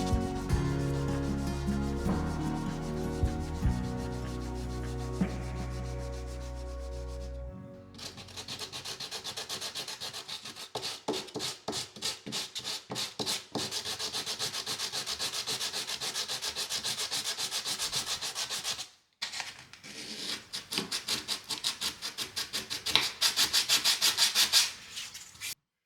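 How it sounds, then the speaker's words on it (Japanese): Sandpaper rubbing over cured polyester putty filling a hole during a washroom floor repair, first in slow, smooth strokes, then in rapid, rhythmic scratchy passes with a brief pause, close and clear. "十分硬化させてからサンドペーパーで平滑にします。"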